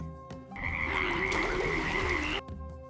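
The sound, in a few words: frogs croaking in an animated Sanskrit story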